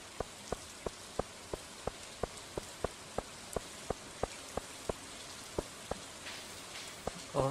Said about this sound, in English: The raindrops are really loud on the metal roof of our trailer.